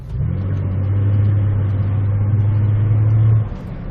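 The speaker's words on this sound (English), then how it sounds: "You'll want to lightly accelerate while driving in a straight line." A car engine gives a steady, close, low drone while the car accelerates lightly in a straight line. The drone holds level for about three seconds and then cuts off near the end.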